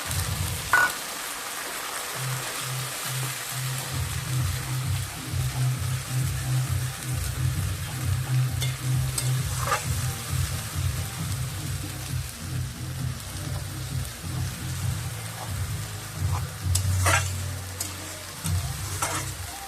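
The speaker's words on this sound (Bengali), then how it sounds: "রসুন পেঁয়াজ এগুলো একটু ভালো করে ভাজা হয়ে যায়" Onion and garlic paste frying in a pan for steamed biryani, a continuous crackling sizzle with intermittent stirring scrapes, close and steady throughout.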